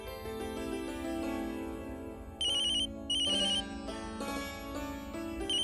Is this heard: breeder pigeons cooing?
no